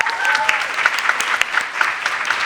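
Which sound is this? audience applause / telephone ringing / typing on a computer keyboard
audience applause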